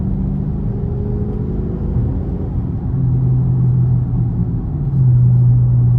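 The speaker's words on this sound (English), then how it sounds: "why is this car only loud when I record it?" A Dodge Charger R/T engine drones and rumbles steadily from inside the car, the revs rising in a couple of surges as it drives along at night.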